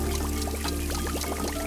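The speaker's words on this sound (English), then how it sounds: "so this is collecting water" Water pours steadily into a collector in the video game Wanderstop, a continuous splashing stream with small bubbling trickles over a constant low hum, close and even in level.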